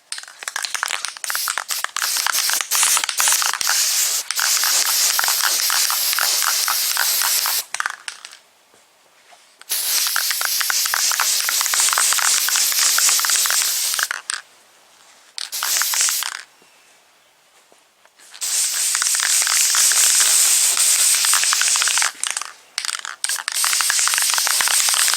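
Guide coat sprays onto car body pieces, a mirror and a spoiler, in long loud hissing bursts separated by a few brief pauses.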